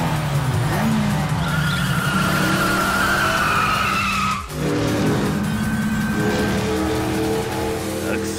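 A car in the video game Yakuza 5 roars at full throttle with sustained engine drone and squealing, skidding tires, loud and continuous with a brief dip midway.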